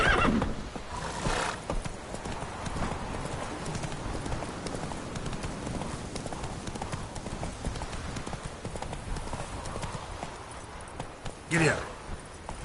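Hoofbeats clop steadily under almost continuous talk as a horse is ridden in The Witcher 3, with a couple of short whinnies near the start and end.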